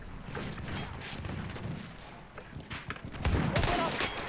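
Gunfire rattles in Battlefield 1 during the Fao Fortress Operations mode, scattered shots and bursts at moderate distance that swell louder toward the end, with some muffled voices underneath.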